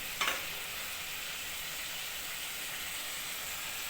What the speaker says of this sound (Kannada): ನೀಟಾಗಿ ಫ್ರೈ ಮಾಡ್ಕೊಬೇಕು ಇದನ್ನು